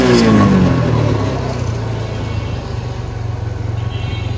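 A TVS Apache RTR 160 motorcycle engine, running noisier than it should, starts loud and close with a falling rev, then settles into a steady, rough idle.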